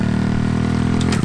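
A dirt bike engine drones loud and steady as the rider shifts gear, its tone dropping off briefly near the end.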